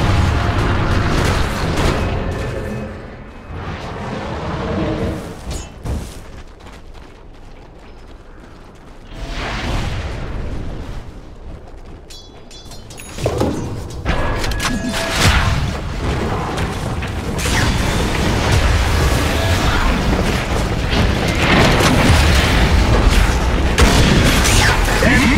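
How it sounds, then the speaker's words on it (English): Tower under attack in a Dota 2 battle, loud clanking mechanical impacts, grinding creaks and booms layered with dense combat effects, building to a constant roar of fighting. "Radiant's top tower is under attack."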